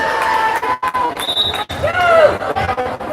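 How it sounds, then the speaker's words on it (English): A volleyball bounces on an indoor court at a high school match, amid crowd noise and a spoken play-by-play voice over the busy gym. "Off the block. Ball bounce."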